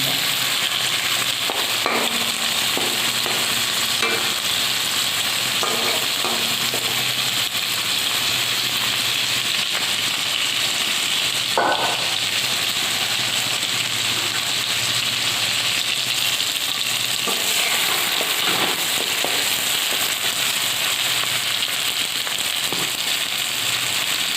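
Fish frying in hot oil in a wok with green chili, onion and tomato, a steady sizzle with scattered pops and crackles throughout, close and continuous with no talk.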